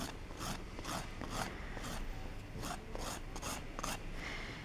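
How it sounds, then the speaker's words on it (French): A nail file rasps steadily across gel nail extensions, close and fairly quiet, in repeated short back-and-forth strokes with no talk. "ce que j'aime bien faire, c'est venir limer, mais par le dessus"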